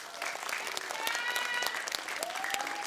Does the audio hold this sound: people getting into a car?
no